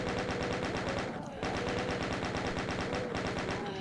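Two chain gunners in the first-person shooter DOOM fire rapid, sustained automatic bursts, a relentless rattling stream of gunshots with a brief break near the middle before the firing resumes.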